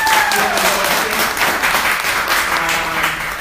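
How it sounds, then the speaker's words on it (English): A studio audience gives a round of applause during a live Q&A show. The clapping is dense and sustained, with a faint tone briefly sliding underneath. "I'd ask for an in-studio round of applause for Megan"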